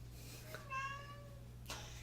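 A cat gives a single drawn-out meow, faint and somewhat distant over a low steady hum, with a soft thump following it.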